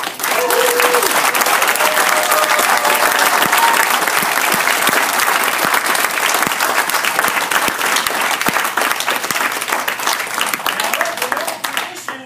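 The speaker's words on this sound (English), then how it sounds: "Let's give this guy a big hand over here" A crowd at a Brazilian jiu-jitsu belt promotion applauds loudly and continuously for several seconds, with cheering voices mixed into the clapping that slowly thins toward the end.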